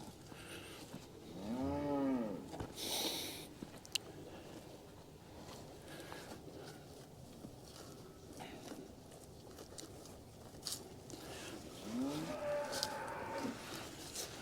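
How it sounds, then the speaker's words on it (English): Brangus cattle moo nearby on a ranch, one long low call early on and another later, with shuffling and faint background noise between. "There's cows in here."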